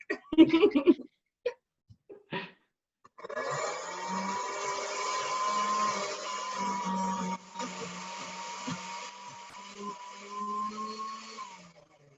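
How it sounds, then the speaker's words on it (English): Blender whirs steadily for several seconds as it purées pesto with cherry tomatoes, after a few short knocks and pulses, the motor droning on before cutting off. "you don't want to overwhelm your blender"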